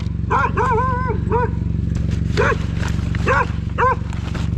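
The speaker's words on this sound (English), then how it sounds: "Dog's freaking out." Dog barking in repeated loud bursts, some close together and others spaced apart, against a steady low hum.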